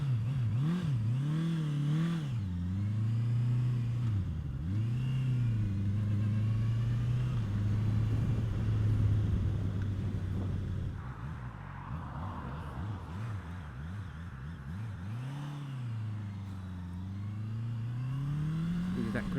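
A Honda CBR650R motorcycle engine revs strongly and climbs through the gears, its pitch rising and dropping with quick-shifter changes. The engine is loud and close, with wind rush between shifts.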